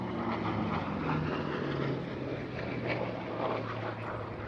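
Hawker Fury propeller warbird flying at an airshow, a steady droning piston engine roar that holds loud and continuous, with faint crowd or wind noise beneath.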